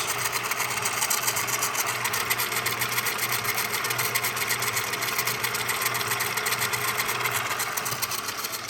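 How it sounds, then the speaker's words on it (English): A universal motor runs at a constant speed, giving a steady, dense mechanical whir with an even buzzing texture that holds at the same loudness from start to finish, close up and without speech. "This motor right here is a universal motor."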